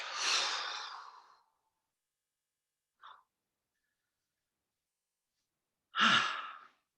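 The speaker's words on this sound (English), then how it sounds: "Nice deep breath in and out." Slow deep breaths during a calm qigong session: a long audible exhale, a brief faint intake midway, then another full breath out near the end, each breath isolated against silence.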